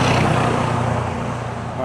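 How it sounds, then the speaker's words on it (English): A loud truck passing by on a road during an after-work run, a heavy broadband rumble that fills the moment, strongest at first and easing slightly, with breathing close by. "wow, that's a loud truck."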